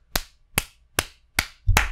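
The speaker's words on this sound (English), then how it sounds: "Everyone round of applause." Five sharp hand claps ring out close and clear at an even, unhurried pace, each one separate and crisp, with no talking around them.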